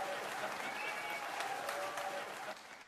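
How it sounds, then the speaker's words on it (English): An audience at a podcast recording claps in applause, a dense, fairly faint patter of many hands that continues steadily and tapers off near the end. "Let's applaud for Daisy."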